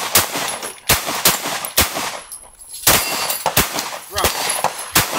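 Gunshots crack out at a gun range: sharp, loud reports fired one after another in an irregular series, each with a short ringing tail, while voices talk between the shots.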